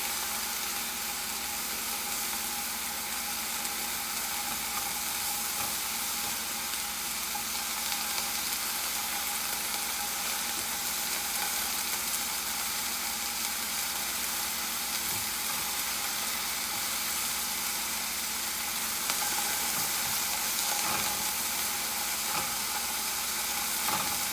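Mushrooms browning in a pan for a baked frittata, giving a steady, even sizzle that holds close and constant throughout with no voices.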